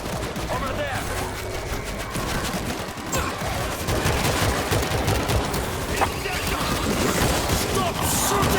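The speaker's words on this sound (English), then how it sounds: "Stop shooting!" Rapid bursts of gunfire from World War Z's zombie-shooter combat crackle continuously throughout, dense and close, mixed with game noise and occasional voices.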